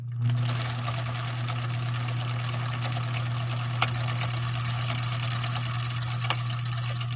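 A 1962 Swedish sewing machine stitches steadily, a strong low motor hum with a continuous mechanical whir and faint ticks throughout, close and alone, while its bobbin may be malfunctioning.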